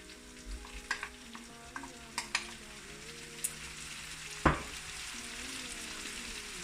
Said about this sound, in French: maintenant, je vais rajouter les tomates